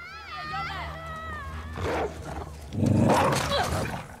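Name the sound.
dog growling in the video game The Last of Us Part 2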